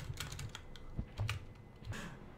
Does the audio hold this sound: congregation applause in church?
no